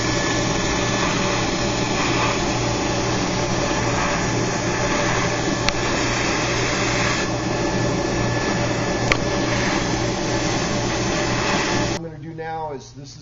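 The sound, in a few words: CNC mill cutting parts with 2 mm single-flute end mill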